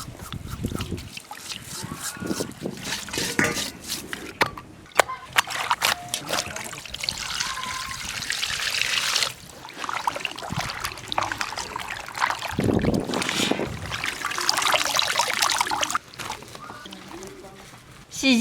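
Tap water runs and splashes as pig skin is rinsed by hand, a trickling, gurgling wash that swells and fades with handling, close by and mostly free of talk.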